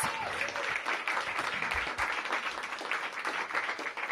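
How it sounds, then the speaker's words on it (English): An audience at a Washington, DC mayoral launch event for a summer youth employment program breaks into dense, sustained applause, a steady wash of many hands clapping for several seconds. "give them another big round of applause"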